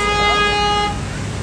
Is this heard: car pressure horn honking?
yes